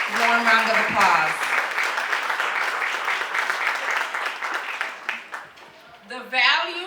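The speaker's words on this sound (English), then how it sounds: "Let's give her another warm round of applause." Warm applause from the audience at a 27th anniversary event, steady clapping that carries under talking voices at the start, then thins out before speech resumes.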